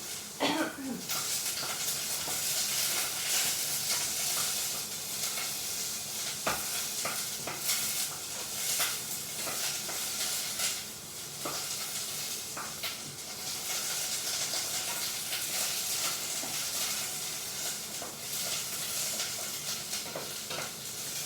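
Chopped onion sizzles steadily in a pan during a live cooking session making Japanese vegetable curry, a continuous close frying hiss with occasional stirring clatter and faint voices underneath.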